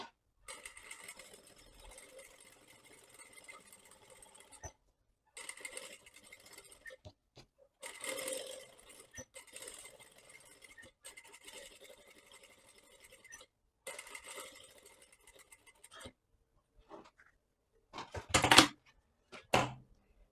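A domestic sewing machine runs a straight seam along the edge of fabric for a ruffled lace V-neck dress, stitching in several close bursts of steady whirring separated by short pauses, ending with a few louder clatters.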